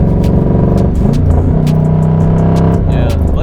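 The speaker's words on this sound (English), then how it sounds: "the exhaust setup I have right now kind of makes it sound like a squatted truck" A widebody Nissan 300ZX swapped to a VH45 V8 revs loudly up close, its deep exhaust burbling and rising in pitch before settling into a rough idle, with faint voices underneath.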